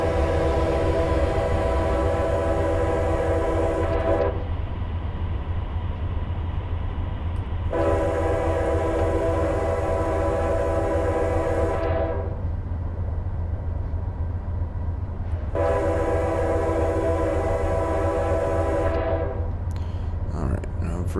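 Amtrak passenger train led by GE P42 locomotives in a train simulator game, with a steady rumbling engine drone and three long horn blasts sounding over it, loud and close throughout.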